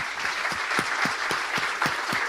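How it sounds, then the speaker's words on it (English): A conference audience at a DevOpsDays event applauds, steady close clapping from many hands that continues evenly for a couple of seconds without talk. "Everybody, please give these folks a round of applause."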